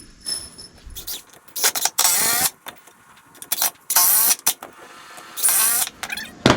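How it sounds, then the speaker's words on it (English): Power driver screwing a screw into a 33-inch 2x4 board, several close whirring bursts of the motor separated by short pauses. "Just screw it in."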